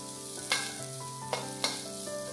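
Shredded ginger sizzles in hot oil with a steady crackle, broken by three sharp clinks of a utensil against the pan.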